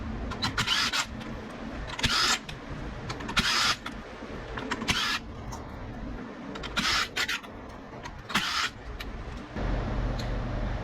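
Bolts are worked loose from a Suzuki SV650 clutch cover, six 10mm bolts in all: a series of sharp, close ratcheting bursts with brief pauses between them, over a steady low background hum.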